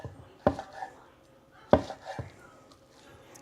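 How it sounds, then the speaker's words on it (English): Knife chopping through a steak on a cutting board, three distinct sharp thuds spaced about a second apart, close and loud against quiet background. "Cut a piece of this steak and see what we got."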